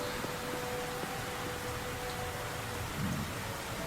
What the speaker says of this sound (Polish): Ta lokacja w deszczu mi się bardzo podoba.